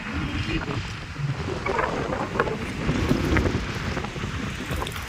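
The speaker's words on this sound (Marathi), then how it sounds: "वारा मस्त सुटलेला आहे" Steady wind blowing across an open outdoor space, a broad constant rush with gusty swells and some background rumble.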